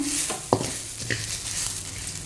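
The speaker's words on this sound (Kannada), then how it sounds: "ಈಗ ಸ್ವಲ್ಪ ಕರಿಬೇವು ಹಾಕ್ತಿದ್ದೇನೆ" Curry leaves hit hot oil for a wedding-style tomato saaru, giving a steady close hiss and sizzle with a sharp spatter burst and a light clink of a spoon against the pan.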